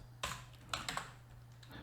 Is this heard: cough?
no